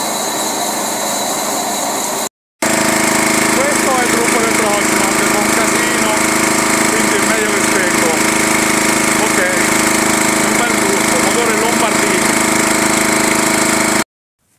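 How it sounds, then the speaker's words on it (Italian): A loud generator-powered saw roars continuously as it bites through firewood, with a brief pause near the start before the grinding resumes. "Vedete la sega che gira? È molto pericolosa."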